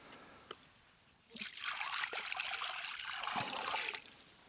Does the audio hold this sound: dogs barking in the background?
no